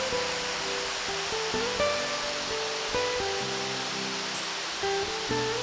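A waterfall at Akame 48 Waterfalls in Mie pours with a constant broadband rush, close and steady, with faint tonal sounds underneath.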